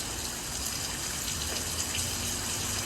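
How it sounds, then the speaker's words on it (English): Rain falls outdoors as a dense, continuous hiss and patter, broadband and steady, fairly close with no voices over it. "Oh! Raining."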